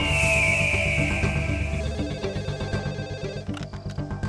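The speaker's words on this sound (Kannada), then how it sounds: "ಅರ್ಧ ರಾತ್ರಿ 2 ಗಂಟೆಗೆ ಪೊಲೀಸ್ ಸ್ಟೇಷನ್ಗೆ ಫೋನ್ ಬಂತು" A telephone rings at a police station at two in the middle of the night, a loud electronic ring that repeats in a quick pulsing pattern and carries on alone with no talk over it.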